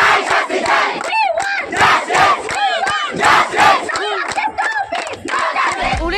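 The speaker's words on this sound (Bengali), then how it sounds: "শহরের রাজপথ কাঁপিয়ে স্লোগান তুলল" Over a thousand students march through the main streets of Kanchanpur town, chanting protest slogans in a loud, rhythmic crowd roar, with repeated rising shouted phrases close by and continuous massed voices throughout.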